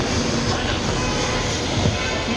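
A metro train rumbles through a station, a loud continuous roar of wheels and motors close by, steady throughout with a faint clank near the end.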